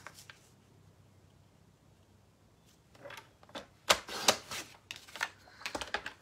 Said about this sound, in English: once I find my paper trimmer here, buried under stamp sets, I'm going to cut this down to 3 inches wide.